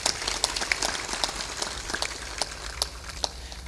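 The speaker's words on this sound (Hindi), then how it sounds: "मनोहर साहिब इनके लिए ताली बजा दो महात्मा" An audience at a spiritual discourse claps, a scattered, moderately loud patter of many hands with irregular sharp peaks continuing steadily, with no one talking over it.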